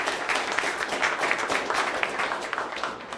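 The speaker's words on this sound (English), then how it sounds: "Give Collins a big round of applause." A crowd claps warmly at a live headquarters announcement event in North Little Rock, a dense, even patter of many hands that holds steady for a few seconds.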